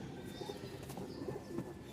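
Domestic pigeons kept for sale cooing softly in a low, continuous murmur, with a few faint wing flaps and no speech.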